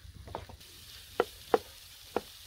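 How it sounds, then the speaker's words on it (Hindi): A spoon stirs besan and okra frying in a pan, giving a few sharp scraping clacks against a soft, steady sizzle, fairly quiet and close. "इसमें चम्मच जो है वो मुसलसल हिलाएंगे ताकि तमाम चीज़ें अच्छी तरह यकजा हो जाएं"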